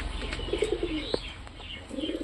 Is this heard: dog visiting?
no